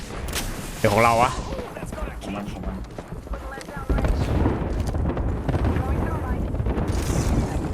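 Gunfire and explosions from a shooting video game, with sharp repeated shots and blasts mixed under excited talk from several players throughout.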